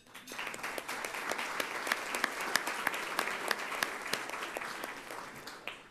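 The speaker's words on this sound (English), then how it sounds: "Give us all a round of applause for their support of today's forum." Applause rises from an audience at a public forum on transit, individual claps standing out sharply within a moderately dense, steady round that swells in quickly and holds at a modest level.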